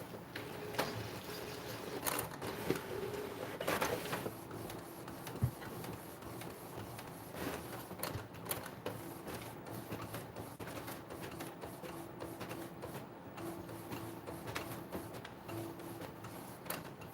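An Epson EcoTank ET-8550 printer runs a nozzle check, with a steady mechanical whir overlaid by rapid ticks and clicks from the moving print head, at moderate volume and without voices.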